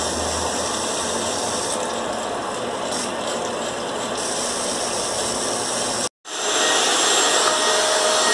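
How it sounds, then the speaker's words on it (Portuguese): A vacuum cleaner running while a house is cleaned, a steady, loud, close whirring roar that drops out for a moment and then resumes just as strongly. "Agora eu vou passar um aspirador na casa"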